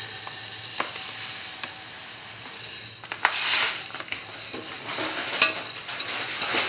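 A spoon stirs sugar into sweet carrot vermicelli pasta soup in a pot, with bright scraping, clinking and soft bubbling churn running close and continuous, louder bursts near the middle and end, no talk.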